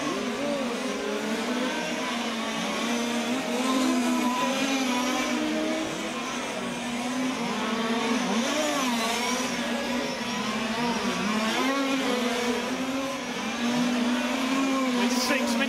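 Large scale RC touring cars racing at the 2012 European championship sub finals, their small engines whining in a continuous buzzing chorus that rises and falls as several cars circuit the track, with a commentator's voice faintly underneath.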